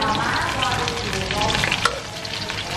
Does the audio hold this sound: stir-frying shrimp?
yes